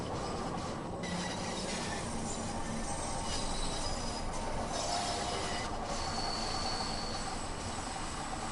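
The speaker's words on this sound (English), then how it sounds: "Here's the other train." In the Train Sim World 2 game on a Bakerloo line route, another train passes with loud continuous rumbling and clattering wheels and a thin metallic squeal, steady throughout.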